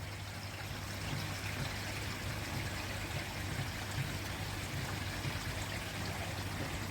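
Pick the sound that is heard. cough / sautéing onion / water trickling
water trickling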